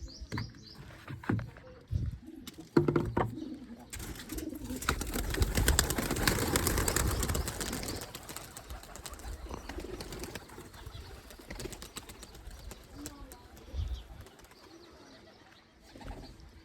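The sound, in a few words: pigeons released, flapping out of their box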